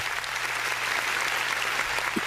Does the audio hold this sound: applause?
yes